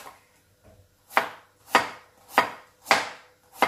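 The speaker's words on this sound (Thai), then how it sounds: "มาหั่นค่ะ radish นะคะใส่สลัดค่ะ" Knife chopping radish on a cutting board for salad, five crisp, evenly spaced chops close up following a couple of softer taps, with no talk.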